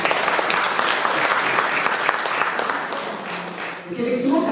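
Applause from an audience at a Malian real estate investment event, a dense steady wash of many hands clapping that thins briefly near the end before swelling again.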